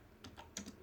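Quiet keystrokes on a computer keyboard while typing C code, about four soft clicks in less than a second, close and faint.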